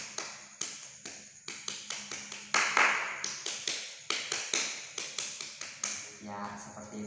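A rhythmic Indonesian scout clapping pattern (tepuk pramuka), sharp claps in quick repeated groups with a brief pause midway, loud and close, with a voice briefly heard between claps.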